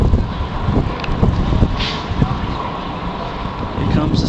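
Deep, rolling rumble from the Space Shuttle Atlantis STS-122 launch, heard from a distance outdoors, with gusty wind buffeting the microphone and people talking over the roar.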